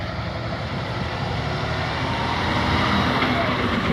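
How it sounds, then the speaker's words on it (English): Cars and trucks rolling slowly around festival grounds during load-in and load-out, a steady wash of engine and road noise that swells slightly near the end, with faint talk in the background. "we got to avoid some of the cars here"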